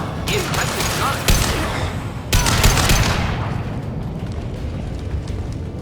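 Gunfire in the Mass Effect 2 video game, a loud crackling barrage with sharp bursts near the start and midway that fade into a lower rumbling battle din, with faint voices in the background.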